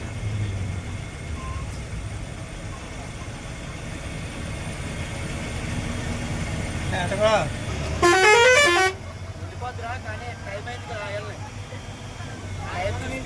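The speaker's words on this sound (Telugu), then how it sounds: "ఇది కొల్లేరు పైన చూసారా కార్లు వస్తున్నాయి" Traffic on a new narrow bridge over Kolleru lake: cars and a bus rumble past and a loud, warbling horn blares for about a second midway, with more engine noise and shorter honks after.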